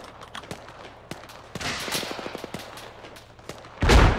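Gunfire in the Arma video game: a rapid string of sharp shots, then a burst of fast automatic fire, and finally one loud, heavy blast close by at the end.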